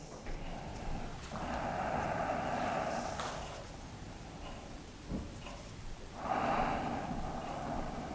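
Slow, deliberate breaths during Xingyiquan San Ti Shi standing practice: two long, close, airy exhalations through the nose several seconds apart, with quieter breathing between them and no talk.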